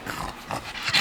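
A dog makes a few short, soft whimpering yips close by, with brief pauses between them.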